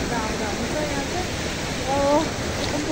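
A waterfall rushes down a cold hillside stream in a steady, broadband wash of falling water, while a voice speaks faintly over the constant roar.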